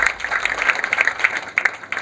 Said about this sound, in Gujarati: આપણે એમને ત્રીજી તાળી પાડીને વધારી